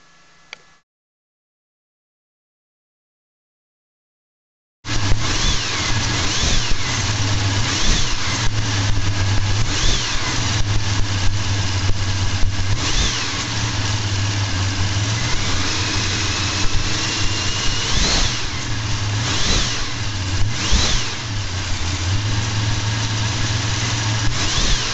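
An engine on a dyno starts after a brief silence and then runs loudly and steadily, its note rising and falling in repeated revs throughout, close and dominant with no talk.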